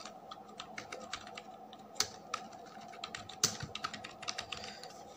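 Computer keyboard typing while filling in an online Aadhar card application, irregular quick clicks with a few louder key strikes over a faint steady hum, no voices.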